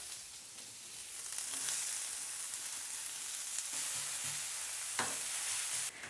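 Butter sizzling steadily in a hot pan, a close, continuous crackling hiss with a few brief clinks of a utensil, no voices.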